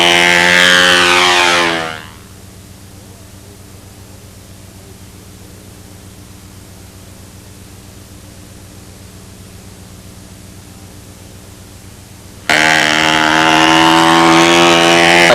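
Steady roar of strong wind buffeting the microphone at a model flying field, loud gusts at the start and end framing a long, lower broadband rush in between, no voices.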